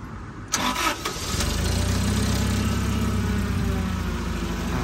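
A Toyota 5FG25 petrol forklift with a manual gearbox cranks briefly, catches, and settles into a smooth, steady idle, a close, even low rumble that stays constant to the end.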